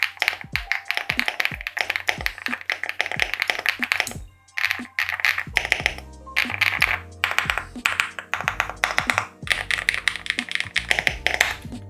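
Rapid mechanical keyboard typing, dense clacky keystrokes in quick bursts with a brief pause midway, close and fairly loud.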